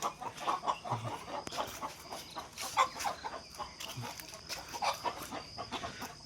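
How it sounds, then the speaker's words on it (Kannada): Chickens cluck in alarm at a large turtle nearby, a run of irregular, agitated clucks and calls overlapping at close to moderate distance. "ಕೋಳಿಗಳೆಲ್ಲ ಅಲರ್ಟಾಗಿ ಕೂಗ್ಕೋತಾವೆ ನೋಡ್ಕೊಂಡಿದ್ದ"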